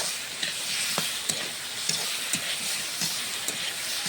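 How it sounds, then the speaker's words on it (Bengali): Potato and pointed gourd being stirred and fried in spiced masala in a pan, a continuous soft sizzle with intermittent scraping strokes of the spoon at an even rhythm. "নাড়াচাড়া করেই কষিয়ে নেব।"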